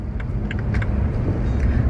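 A car passes close by on a road, its steady low engine and tire rumble filling the short stretch without pause, with no talking over it.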